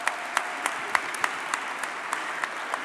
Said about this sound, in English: Could you please join me in applause?